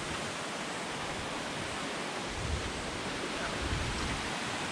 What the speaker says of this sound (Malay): Sungai kat depan